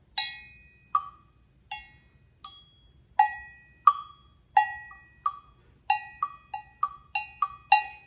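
Agogo bell struck with tiny soft mallets, producing clear ringing metallic tones that alternate between high and low bells, about a dozen strikes in an uneven rhythm, each decaying quickly, alone with no talking.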